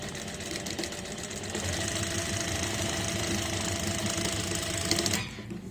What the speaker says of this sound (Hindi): सीधी सिलाई यहाँ पे लगा लेंगे ऐसे